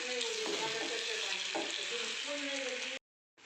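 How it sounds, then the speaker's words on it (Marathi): Mashed eggplant for bharit being stirred and mixed in a hot pan with coriander, a continuous sizzle with scraping strokes of the spoon, close and steady before cutting off abruptly. "आपल्याला वांग याच्यामध्ये मिक्स करून घ्यायचं आहे छान मिक्स करायचं आहे"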